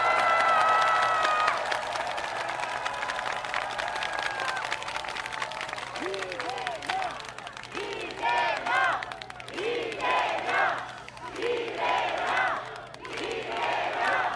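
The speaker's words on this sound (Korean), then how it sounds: "서로 격려, 응원의 박수 한번 나누시기 바랍니다" At a Korean political rally, the crowd first shouts together, then breaks into scattered applause and cheers that rise and fall in waves, with shouted calls rising over the clapping.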